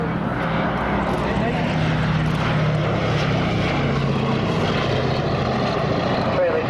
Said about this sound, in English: Sally B for a final fly past at low level.